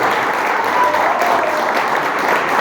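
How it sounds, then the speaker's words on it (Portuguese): Church congregation clapping in praise during a worship service, a dense, steady wash of applause filling the whole moment. "Dá uma salva de palmas para Ele."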